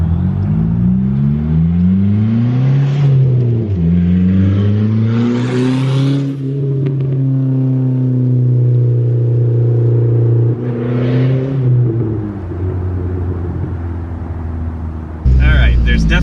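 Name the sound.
car exhaust with open cutout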